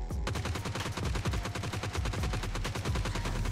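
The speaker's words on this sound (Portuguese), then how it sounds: "Vou dar mais um tiro com a G36 aqui pra vocês entenderem" A G36C rifle firing full-auto in PUBG Mobile, a rapid, loud, even stream of gunshots lasting the whole few seconds with no talking.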